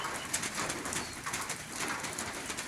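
Pigeons or doves cooing and calling outdoors, steady and moderately close, against a hiss of rain-like background noise throughout, with no talking.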